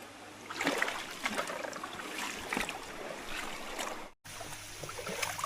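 Water flowing into a rice paddy field, a steady rushing trickle with splashy surges, close and fairly soft, briefly cut by a short gap near the end.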